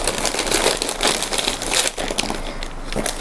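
Close, continuous crinkling and rustling of a plastic burn-dressing packet from a first aid kit being handled and torn open.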